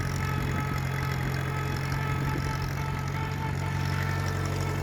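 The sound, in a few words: Allis Chalmers B tractor engine and gear whine on test drive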